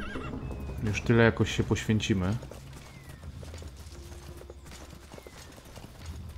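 A horse whinnies in a shaky, rising neigh over a steady background of game noise in Metal Gear Solid V: The Phantom Pain, with someone speaking briefly at the same time.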